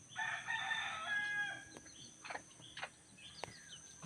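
A rooster crows once at a moderate distance, followed by softer clucks and scattered farmyard bird sounds.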